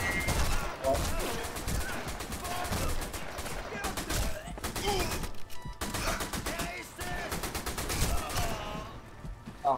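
Rapid bursts of gunfire crackle through a Sniper Elite V2 co-op firefight, dense volleys of repeated shots coming in waves with brief gaps, with talk underneath.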